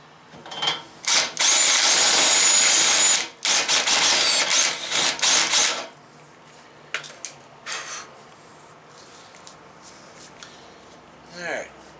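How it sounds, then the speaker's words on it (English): Power drill boring a hole for a safety chain bolt on a teardrop trailer build, a loud close whine lasting a few seconds in two runs, followed by quieter handling clicks and a brief rattle. "Alright, got our hole drilled here"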